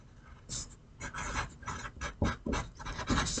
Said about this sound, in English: I can't stand the sound of colored pencil.